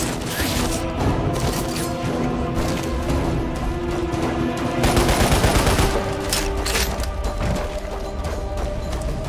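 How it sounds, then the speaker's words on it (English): Machine gun and rocket launcher fire in Lost Planet Extreme Condition, a loud, continuous barrage of rapid gunfire with heavier blasts and mechanical clatter mixed in, close and relentless throughout. "More rocket launcher, machine gun."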